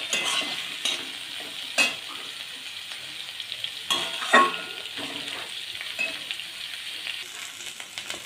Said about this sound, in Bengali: ফুলকপিগুলোকে ভালো করে নেড়ে চেড়ে ভেজে নিতে হবে